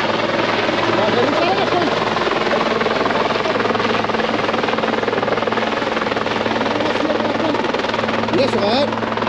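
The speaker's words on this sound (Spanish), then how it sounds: "Helicóptero y todo" A helicopter flies over a bridge near Bahía Honda during a fishing trip, its steady loud rotor and engine drone filling the scene without a break, with people talking underneath.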